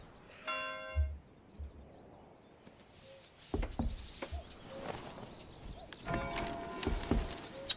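A bell rings out in the medieval town of the video game Manor Lords, with resonant clangs sounding among horse hooves, clip-clops and other settlement noise, fairly faint overall.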